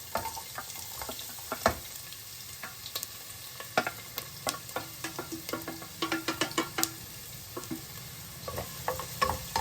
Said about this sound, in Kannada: ಈರುಳ್ಳಿ ಫ್ರೈ ಮಾಡ್ಕೊಳ್ಳೋದು.